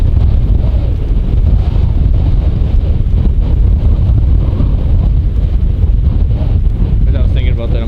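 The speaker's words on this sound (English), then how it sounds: "The wind is howling, like 30 miles an hour" Strong wind of about 30 mph, gusting to 45, roars into the microphone in North Dakota without a break, a loud, buffeting rush that never lets up, with a brief faint voice near the end.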